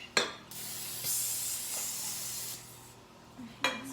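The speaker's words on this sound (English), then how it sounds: "So I'm going to spray mine with pan spray." Cooking spray hisses from a can onto a baking pan in a few short bursts, close and fairly quiet, with a longer spray in the middle and a final quick spritz.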